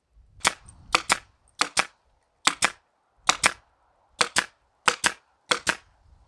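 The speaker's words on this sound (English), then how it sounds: "I'm just going to go through and tack them down first with the staple gun" Staple gun tacking reclaimed boards down while building a mobile chicken tractor: about a dozen sharp, close, loud snaps, mostly in quick pairs, spaced across the clip with quiet gaps between.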